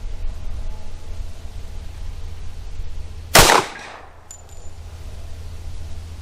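A single sharp shot from a Glock 21 pistol firing Federal HST .45 ACP, one loud crack with a short decaying tail, then quiet background.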